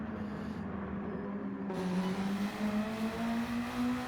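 Race cars in Gran Turismo 7 accelerate down the start-finish straight at Interlagos during a WSTC touring car race, engines holding a steady rising drone that swells and thickens as the pack pulls away.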